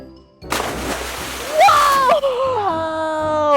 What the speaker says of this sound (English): So as I dropped it inside, it sunk, but then it came back up again.